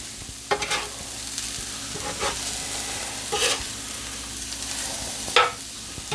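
Chicken fajita quesadilla cooking on a stovetop griddle turned up to high heat, soft steady sizzle broken by a few scraping spatula strokes, close and fairly clear, no talking.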